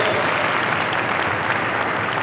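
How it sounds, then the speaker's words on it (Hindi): A large crowd at a Chhattisgarh public event claps loudly and steadily to welcome Jharkhand chief minister Hemant Soren, a thick, unbroken burst of applause close to the microphone. "आप सबसे निवेदन एक बार जोरदार ताली बजा के स्वागत करो।"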